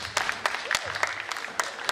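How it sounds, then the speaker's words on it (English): Brief, moderately faint audience applause at a spelling bee competition, with scattered individual claps rather than a dense roar. "Let's give them a big round of applause."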